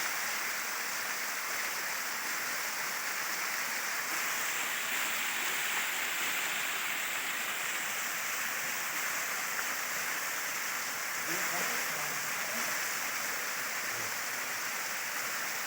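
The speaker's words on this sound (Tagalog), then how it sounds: "Ito yung sa itaas na falls." Upper waterfall on a farm lot in Laguna, a steady broadband rush of falling water that stays constant and fairly distant throughout, with no voices.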